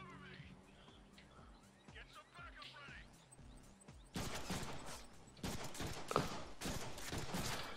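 Gunfire rings out in the Deadpool video game: quiet, scattered shots at first, then dense, loud rapid bursts in clustered volleys, with voices talking throughout.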